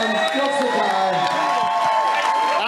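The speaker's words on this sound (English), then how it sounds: "The crowd is going nuts." Fight-event crowd at Fight Circus 4 roaring and cheering nonstop, a loud dense wall of voices with whoops rising throughout, steady and close with no pauses.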